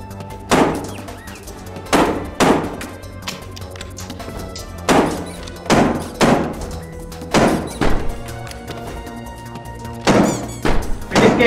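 A gun thrown at enemies in the VR game Sneaky Bears lands with a series of dull thunks and thuds, roughly one every one to two seconds, over a steady musical game background.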